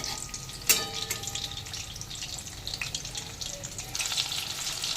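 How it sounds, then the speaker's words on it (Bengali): Battered topshe fish fry in hot oil, a steady bright crackling sizzle with a sharp splash as a piece drops in early on, then continuous bubbling, close and fairly loud, with no voices. "এই নিয়ে গরম তেলের মধ্যে ছেড়ে দেব"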